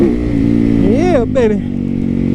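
Motorcycle engine droning steadily while riding through residential streets, a loud continuous hum with a brief pitch swell, and a voice speaking over it.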